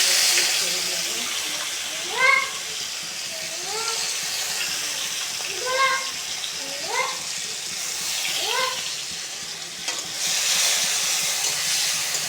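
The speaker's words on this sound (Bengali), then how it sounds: "এবার কড়াইয়ে পেঁয়াজ কুচি ছেড়ে দেব।" Chopped onions fry in a kadai with a steady hissing sizzle, while short rising tonal calls sound at intervals throughout.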